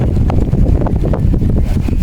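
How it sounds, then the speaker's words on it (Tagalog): Strong outdoor wind gusting steadily against the microphone, a dense low rumble with buffeting throughout, setting a decorated Christmas tree swaying outside in the Czech Republic. "Kasi malakas ang hangin."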